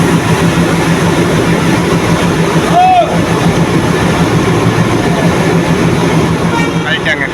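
A diesel locomotive hauling the Mayiladuthurai Jan Shatabdi Express runs at a station platform, giving a steady, loud rumble that holds throughout, with a brief squeal and people talking over it.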